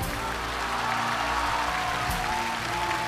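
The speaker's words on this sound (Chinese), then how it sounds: "让我们再次用掌声送给我们本期的明星歌手" A concert audience gives sustained, even applause for a singer, a dense wash of clapping that holds steady for several seconds with no speech over it.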